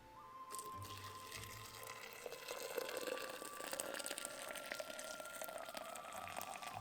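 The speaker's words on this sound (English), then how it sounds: "And finally water to the tea press pot." Hot water pours steadily into a tea press pot, a continuous close gushing and splashing stream that fills the vessel for several seconds without talk.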